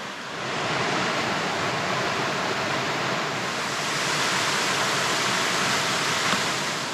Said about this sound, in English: All the water's coming under and popping out.